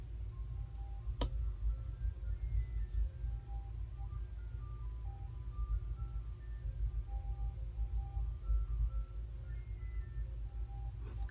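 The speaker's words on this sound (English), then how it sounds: "the ice cream truck just infuriates me" Ice cream truck chime from outside plays a steady tinkling melody of repeated bell-like notes throughout, moderately loud over a low rumbling background hum, with no talking.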